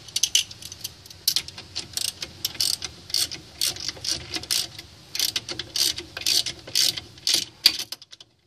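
A hand ratchet clicks in rapid bursts while tightening lug nuts onto the hub assembly of a 2006 Chevrolet Uplander, close and sharp, with short pauses between strokes and no talking.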